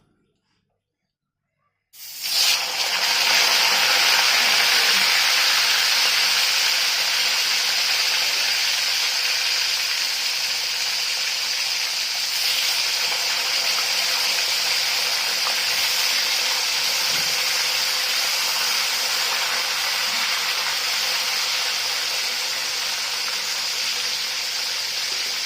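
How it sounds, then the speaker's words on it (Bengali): Shol fish sizzling in hot oil in a home kitchen pan for a Bengali sweet-sour mango and potato dish, a loud steady hiss of frying that starts abruptly after a short silence and carries on unbroken. "মাছগুলো ভেজে নেব।"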